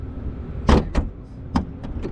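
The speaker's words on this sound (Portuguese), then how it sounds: "Puxa lá a alavanca, acho que é duas vezes." Hood release lever pulled inside a BMW M5, a few sharp mechanical clunks and clicks spaced unevenly, close and fairly loud in a quiet car interior.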